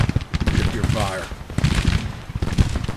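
Volleys of musket fire from Civil War troops in the strategy game Grand Tactician, a rolling crackle of many overlapping shots at mid distance, with someone speaking over it.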